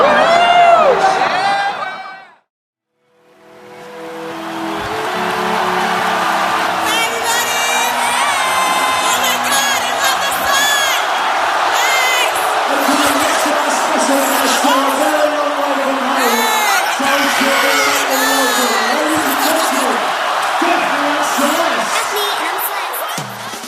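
A huge Reading Festival crowd roars, cheers and yells continuously and loudly after a brief moment of near silence, a dense wall of whoops and shouts.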